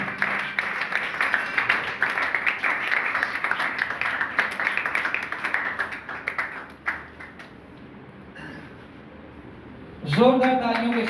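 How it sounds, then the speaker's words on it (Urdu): Sustained loud applause and clapping from a church congregation at a Mother's Day service, continuous for several seconds before fading, followed by a brief burst of voice. "زوردار تالیاں بجائیں گے"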